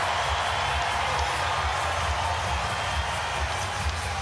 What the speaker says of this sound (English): Noise has just gone up a few notches in this final quarter.